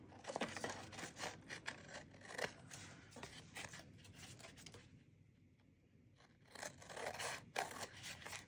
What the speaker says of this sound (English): I'm just gonna cut this, same as all of the other times.